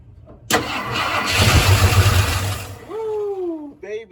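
A 1972 Ford F-100 Ranger XLT bump-side pickup that had sat unused for over ten years cranks briefly, then its engine catches and roars to a loud, steady run close by, with a rising whine near the end.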